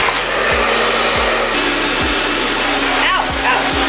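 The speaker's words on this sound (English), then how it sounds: "Make sure you put the blow dryer on cool." A blow dryer set on cool runs steadily while drying a wig, giving a loud continuous airy whir with a few soft thumps as it is handled.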